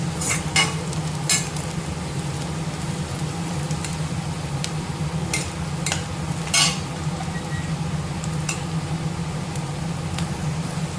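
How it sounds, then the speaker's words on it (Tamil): Onions sautéing with curry leaves in a pan for ground-masala egg gravy, a steady soft sizzle under a low hum, with several sharp clinks of a spoon stirring against the pan. "வெங்காயம் நல்லா வதங்கிடுச்சு"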